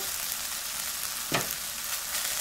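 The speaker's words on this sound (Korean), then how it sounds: "이렇게 해서 먼저 살짝 볶아 볼게요" Spam and tofu stew ingredients being stir-fried in a pan give a steady, close sizzle, with a brief louder scrape of stirring partway through.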